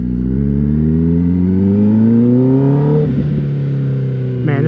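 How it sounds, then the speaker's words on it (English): An Austin Racing exhaust on a car, loud and throaty, revving up close with a steadily rising deep growl that dips briefly before climbing again. "this thing is so deep. She a throaty exhaust."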